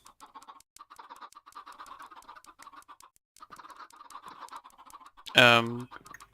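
Several Minecraft chickens cluck and scratch in short repeated bursts, with a sudden loud squawk near the end.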